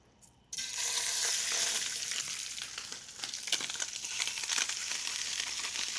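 Chicken skin-down in a hot oiled pan starts sizzling loudly after a brief quiet moment, a steady, close frying crackle that continues without talk.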